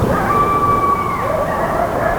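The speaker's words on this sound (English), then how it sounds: "It's either domesticated dogs are provoking coyotes, or coyotes are just yelling at each other." Dogs or coyotes howl and yelp in the night, drawn-out wavering howls rising and sliding in pitch over a continuous noisy background, fairly loud and sustained.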